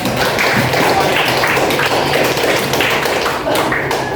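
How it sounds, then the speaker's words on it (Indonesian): A classroom of students claps loudly and continuously for a student group, a dense, close burst of clapping that fills the whole stretch with a few voices mixed in. "Tepuk tangan untuk kelompok"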